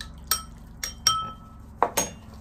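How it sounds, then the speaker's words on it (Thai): A spoon clinks sharply against a cup or bowl while stirring Knorr seasoning powder into a little warm water. There are about five bright, close taps at an uneven pace, with no talking. "ช่วยนะฮะ1 ช้อนชา ตามด้วยน้ำอุ่นนะครับนิดหน่อย"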